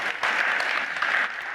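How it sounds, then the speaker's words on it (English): A church town hall audience claps for a camp participant, a steady wash of many hands applauding close and loud from start to finish. "give Gus a round of applause."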